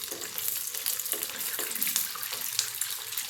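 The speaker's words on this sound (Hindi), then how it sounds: "अब मैं तेल में इसे डाल रही हूँ।" Beetroot sweet dough balls dropped into hot oil fry with a steady, close sizzling hiss and bubbling crackle throughout, with no talking.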